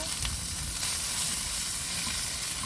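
Garlic and ginger fry in a tablespoon of hot oil, giving a steady, close sizzling hiss that holds evenly throughout with no talking.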